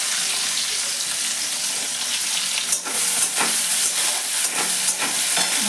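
Loud, close sizzling of onions frying in a pan for palak chingri (spinach with small shrimp), with repeated scraping and stirring strokes over the constant hiss.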